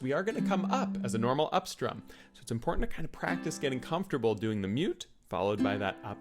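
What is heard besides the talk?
No everyday noises stand out.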